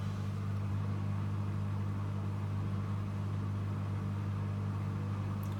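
A Bosch Serie 8 WAYH8790GB washing machine on a Cotton 60° SpeedPerfect programme starts its spin cycle, giving a steady, loud, low drum hum and rumble that holds evenly throughout with no voices.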